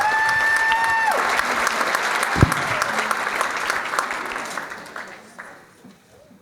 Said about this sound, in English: Another round of applause for contestant number 2.